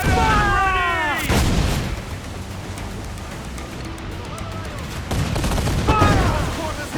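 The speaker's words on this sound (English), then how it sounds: "Ready to fire! Cannon ready!" Cannon volleys from a ship in the Assassin's Creed IV Black Flag video game, two loud broadside blasts with rolling rumble between them, heard under crew shouts at the start and end.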